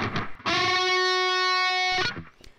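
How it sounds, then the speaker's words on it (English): A distorted electric guitar holds a long, sustained unison bend with a thick, buzzing tone, dissonant until reaching the whole step, framed by brief plucked notes before and after. "You can hear when I bend up, it sounds very dissonant until I get to that whole step bend."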